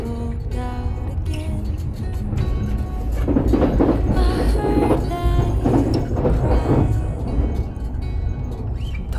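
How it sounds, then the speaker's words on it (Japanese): An Odakyu Romancecar EXE train rolling over many sets of points near Shin-Yurigaoka station, a loud steady rumble with rising clatter and clacking wheels, heard close from on board. "たくさんのポイントを超え新百合ヶ丘駅を通過。"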